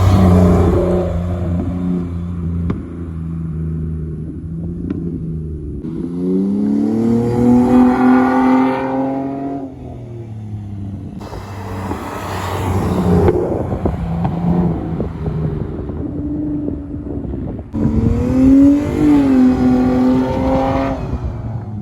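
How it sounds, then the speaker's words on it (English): A Nissan Maxima's exhaust revs and roars in several loud bursts as it passes close by, engine pitch climbing and falling with each pull. "outside clip of the car, of the exhaust, a flyby or whatever"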